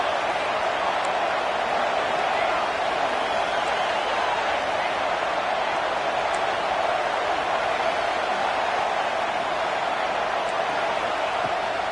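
A stadium crowd roars at a Clemson college football game. The broad, steady wash of cheering never lets up and fills the whole stretch at high volume.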